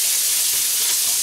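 Onions sizzling in butter in a pan, a steady close hiss and crackle with no talking.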